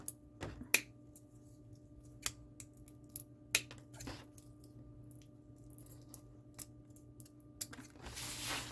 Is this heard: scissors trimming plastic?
yes